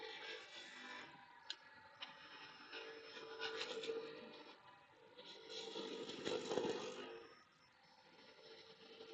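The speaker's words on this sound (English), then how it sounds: "Just rolling over the roughing gouge" A roughing gouge cuts a wood blank spinning on a lathe, a soft rushing scrape that swells and fades as the tool passes along the work, faint and without talk.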